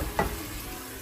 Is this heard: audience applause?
no